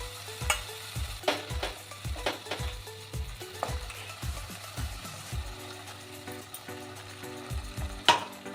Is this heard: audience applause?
no